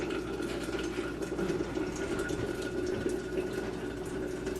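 Water being poured into a vessel for brewing kombucha, a steady close trickling and splashing stream that runs continuously at moderate volume with no talking.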